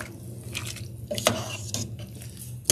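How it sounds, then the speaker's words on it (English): Beef stew with balsamic vinegar and flour is stirred in a pot, giving wet squishing and a few spoon knocks against the side, close and fairly quiet, no talking. "All right, we're gonna mix it around."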